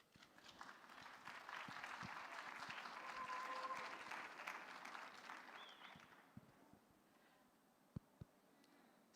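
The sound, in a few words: audience applause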